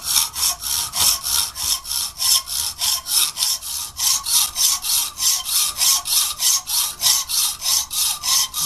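A hand hacksaw cuts through 1/4 inch steel stock in a steady back-and-forth rhythm, each bright rasping stroke close and loud and repeating about three times a second with no talking.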